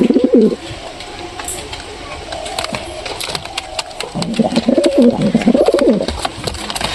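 Budgerigars chirp in quick, bright bursts, while a low, throaty cooing rises and falls beneath them, close by.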